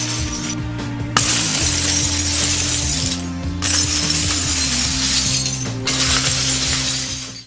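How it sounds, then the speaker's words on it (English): Broken glass crunching and cracking underfoot during a barefoot glass walk, a near, dense gritty crackle running almost continuously with a few brief pauses, steady and fairly loud. "The glass walk was quite scary because at first I thought it was going to be pretty easy, but the person before me, the glass was cracking lots."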